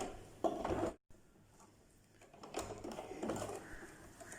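A sewing machine stitching fabric for a box pleat frock runs in short bursts, with a brief stop near the start and then a steadier close mechanical whir, heard alone with no talking.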